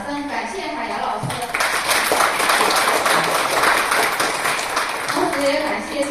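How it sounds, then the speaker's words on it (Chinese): An audience at a literary lecture gives warm applause to thank the author Hai Ya, the clapping swelling in after a voice finishes speaking, holding steady for several seconds, then tapering as talk resumes. "让我们再次以热烈的掌声感谢海洋老师"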